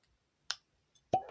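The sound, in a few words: cork popping out of a whiskey bottle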